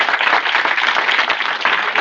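Dense, steady applause from a crowd gathered for a school hall commissioning, loud and close, sustained without a break and with no talk over it.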